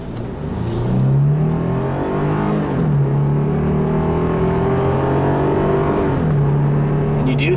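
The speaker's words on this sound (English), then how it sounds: "You do have to rev the little scrawny V6 to get it going." A 2008 Lexus IS250 AWD with a V6 engine revs loudly from inside the cabin while driving, rising through several gear pulls with steady engine drone and shifts.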